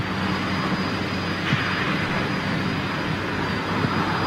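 A big jet airliner roaring along an airport runway on its takeoff roll, heard from some distance as a steady, loud, broad engine rumble and hiss with no talking.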